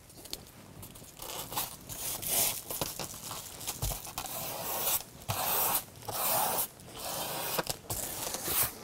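Adhesive tape is pulled off a roll and torn to fix the long edges of underlay for an underfloor heating installation in a private house, with repeated bursts of ripping and crackling set apart by short pauses.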